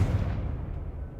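Deep booming explosion from the Confringo spell in Hogwarts Legacy, a heavy low-frequency blast whose rumble decays over about a second.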